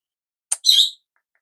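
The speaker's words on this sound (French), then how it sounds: "ça c'est mon petit oiseau" A small pet bird chirps indoors: a quick sharp tick followed by one bright, high warbled chirp, close and clear, then quiet.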